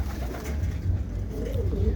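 Low, throaty pigeon cooing repeats steadily over a constant low rumble, fairly close and moderately loud.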